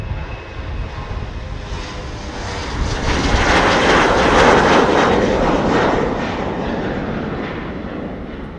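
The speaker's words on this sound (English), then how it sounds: "We've got KLM's Embraer 190 going to Bologna in its Sky Team livery." A KLM Embraer 190 jet passes at Schiphol, its engine roar swelling loud to a peak midway and then slowly fading, heard alone without voices.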